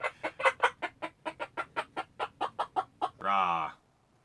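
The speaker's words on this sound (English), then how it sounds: "You're not being good, chicken. You're being loud today." A chicken clucks loudly and close up in a quick run of about sixteen sharp, rhythmic clucks, then lets out one longer drawn-out squawk before falling silent.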